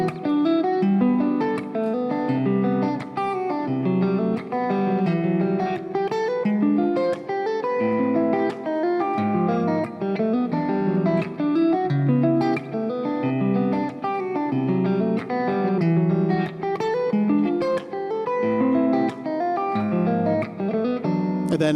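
Fingerstyle guitar played percussively, with body slaps and tapped hits woven into strummed chords, a steady rhythmic groove that is loud and continuous, with no voices.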